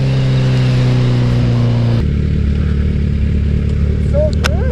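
A Kawasaki Z900 motorcycle engine drones loud and close while being ridden. Its steady tone shifts lower partway through, with rushing wind noise throughout.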